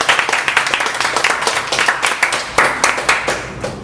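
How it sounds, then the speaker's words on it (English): A round of applause at a Toastmasters club meeting: many hands clapping in a brisk, continuous patter, close and fairly loud throughout, with a faint voice mixed in. "So let's give a round of applause there."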